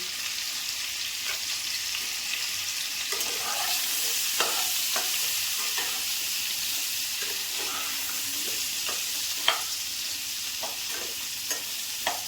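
Potato pieces fry with turmeric in a pan, giving a steady close sizzle throughout, with occasional sharp scrapes and clinks of a spatula stirring, and no talking.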